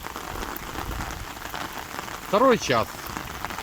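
Heavy rain pours down after a hailstorm, a loud, steady drumming wash on surfaces, with someone briefly speaking over it.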